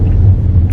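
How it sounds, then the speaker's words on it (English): A car driving on the road into New York City, heard as a steady, loud low rumble of engine and road noise from inside the vehicle, with no talk. "I'm driving into New York City"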